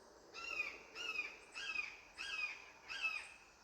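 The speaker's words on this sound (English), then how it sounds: "That one's a red-shouldered hawk." A red-shouldered hawk calls outdoors in five evenly spaced, harsh, drawn-out screaming notes, each about half a second long. The calls sound moderately distant and stand alone over quiet background noise.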